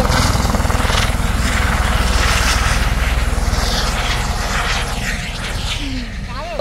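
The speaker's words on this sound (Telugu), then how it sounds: "సో చూడండి అక్కడ హెలికాప్టర్" A helicopter nearby at an outdoor spot gives off a loud, steady rotor thrum and engine drone that slowly fades slightly, with a voice speaking over it.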